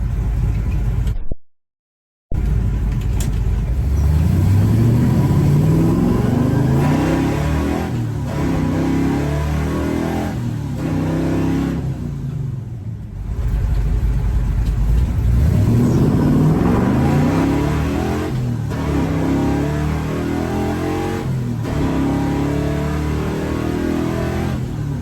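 A Chevrolet C10 pickup truck is driven hard, its engine rising through repeated accelerating pulls and gear changes with a loud, steady rumble close by and a brief dropout early on.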